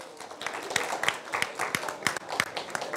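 Scattered, uneven clapping from a small audience at an Engineers Day session, individual hand claps standing out in a loose, irregular rhythm at moderate volume.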